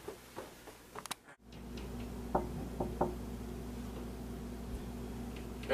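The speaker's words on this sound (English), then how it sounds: "somebody at the door." Several faint, irregular knocks sound on a door at a home, brief dull taps spaced apart over a low steady hum, somewhat distant and quiet.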